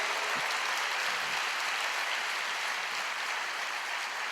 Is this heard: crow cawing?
no